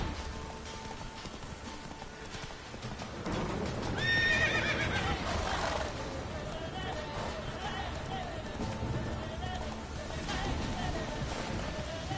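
A horse in a PS4 video game neighs loudly while its hooves clip-clop at a quickening pace, with voices talking over the game sound.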